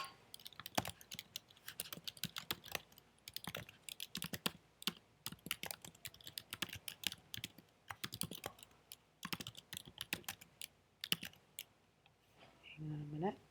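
Steady bursts of typing on a computer keyboard, close and fairly quiet, with irregular clusters of key clicks and short pauses between them, no speech in between.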